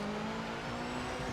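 Race car drifting through Parabolica in Project Motor Racing, with engine braking and snap oversteer; a loud, steady engine drone holds throughout the short stretch, with any tire squeal buried beneath it.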